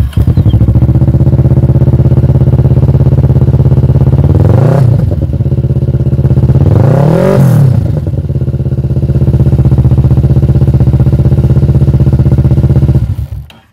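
A motorcycle with a swapped battery starts and runs, its loud, close engine droning steadily with two brief revving swells and some clatter before cutting off abruptly at the end.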